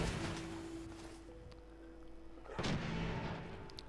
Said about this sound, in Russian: Там что-то уже взрываются.